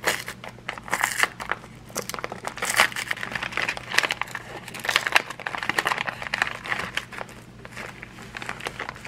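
Close crinkling and crackling of plastic packaging being pulled and worked open, in irregular bursts over several seconds.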